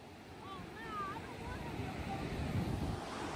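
Surf rolls in at an ocean beach under steady wind buffeting the microphone, a continuous wash that swells slightly, with a voice talking over it.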